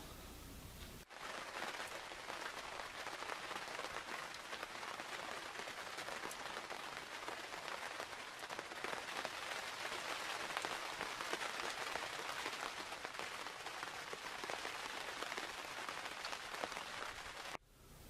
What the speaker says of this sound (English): we're in the blind and it's raining like cats and dogs